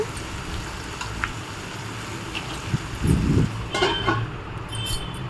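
Onions fry with a little salt in a pan for paneer butter masala, a soft, steady sizzle with a few faint clinks and stirring scrapes nearby.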